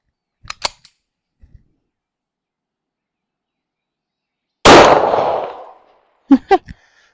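One sharp, loud gunshot from a Kimber 1911 pistol cracks out on an outdoor range and decays over about a second, with short bursts of talk before and after it.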